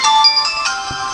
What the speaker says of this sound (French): Bon, désolé pour le téléphone.